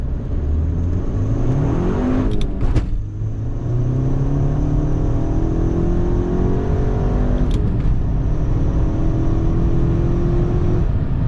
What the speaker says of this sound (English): to hear the exhaust crackles, you really have to get after it